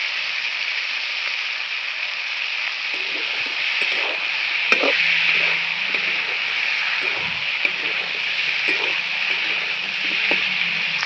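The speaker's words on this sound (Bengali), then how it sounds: "মাছগুলো হালকা লাল করে ভেজে নিয়েছি দিয়ে দিচ্ছি আদা বাটা" Lightly browned rohu fish sizzles in a pan as ginger paste goes in, a steady, even frying hiss with a few soft clinks and scrapes of stirring.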